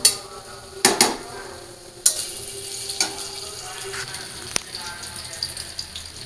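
Onions sizzle and fry in a pan while being stirred, giving a steady crackling hiss broken by several sharp clinks and scrapes of a utensil against the pan, close up.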